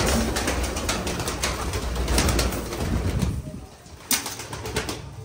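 A flock of loft pigeons is fed grain, making soft cooing and fluttering wing flaps close by, with a sudden flap burst near the end.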